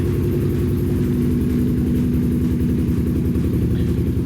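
A Suzuki GSX-R150 motorcycle idles and revs through its stock exhaust silencer, a dense steady engine rumble heard close up and loud throughout.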